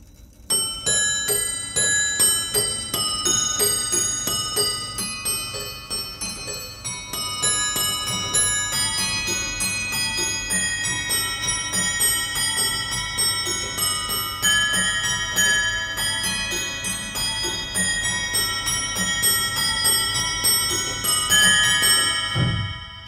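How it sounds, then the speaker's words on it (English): A mechanical bell music box plays a steady, bright tinkling melody of rapid broken chords from a 1730s Handel piece, continuous and fairly loud throughout, with no voices. "Now, on bells, of course, broken chords and all that will do very nicely, as you hear here."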